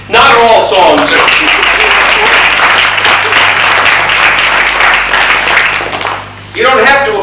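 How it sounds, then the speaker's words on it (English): Loud, full audience applause at a musical stage performance fills several seconds between short stretches of someone talking before and after. "You don't have to applaud, it's optional, you know."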